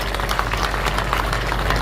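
Steady, dense clapping from a ceremony crowd at a foundation-laying event for a new panchayat samiti building in Jat, sustained and fairly loud throughout.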